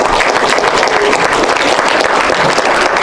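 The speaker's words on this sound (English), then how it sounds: "Round of applause." Dense, loud applause from a theater audience at a documentary screening, continuous clapping filling the whole stretch with no talking.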